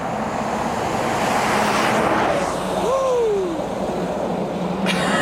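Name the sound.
bus driving past on a snowy road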